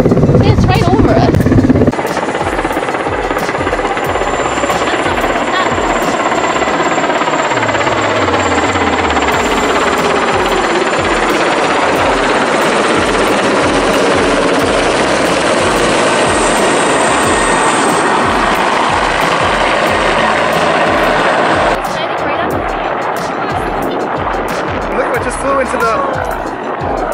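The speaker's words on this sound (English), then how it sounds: "We're crossing the bridge and we see a helicopter." A helicopter thunders nearby with a rapid thudding rotor chop and engine whine that dominates, voices faintly underneath before the noise cuts away near the end.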